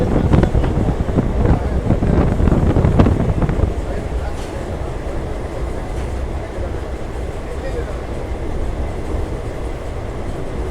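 A DEMU diesel train between Ballari and Davanagere runs at speed, its steady rumble and wheel noise loud and continuous, heaviest in the first few seconds, with wind buffeting the microphone throughout.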